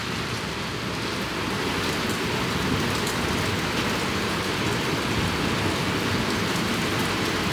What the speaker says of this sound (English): Make sure it's not raining in.